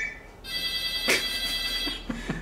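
Telephone ringing in a workshop, a tonal electronic ring with repeated bursts, fairly close, accompanied by a few soft knocks and background room noise, no speech.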